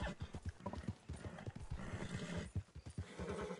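A horse gallops in the video game Red Dead Online, with quick, close hoofbeats in a steady clip-clop rhythm and a brief whinny.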